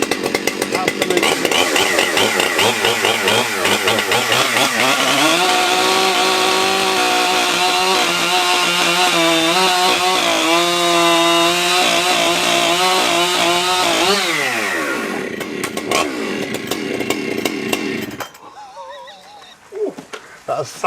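A new Husqvarna 592 XP chainsaw making its first cut into wood, loud sustained engine whine bogging and rising under load, then revving down and dropping to idle near the end.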